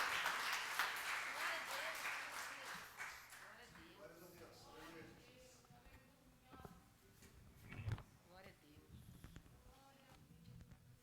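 A church congregation at a Sunday evangelical service breaks into applause that starts strong and gradually thins out, giving way to scattered claps and voices talking and calling out across the room.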